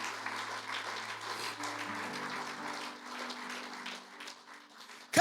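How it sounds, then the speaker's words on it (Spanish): Church congregation applauding, a steady wash of clapping at low level with a low tone sustained beneath it, fading slightly toward the end. "¡Fuerte los aplausos!"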